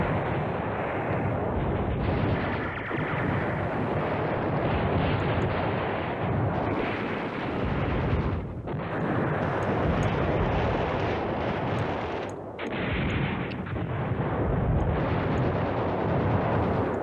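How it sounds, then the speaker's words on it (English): Continuous bombing and artillery fire in the Command Ops 2 war game at Manhay Crossroads, dense rumbling blasts rolling on nearly without pause for many seconds, loud and heavy, with no talking. "You're bombing down there to get rid of those O's"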